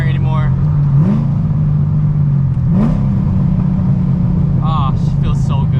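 Straight-piped Corvette Z06 engine drones loud and steady while driving, with two distinct rev rises around the first and third seconds, rough exhaust rumble throughout and brief higher whines near the end.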